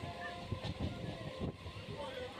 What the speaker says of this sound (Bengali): আমাদের ট্রেন চলল ডায়মন্ড হারবারের উদ্দেশ্যে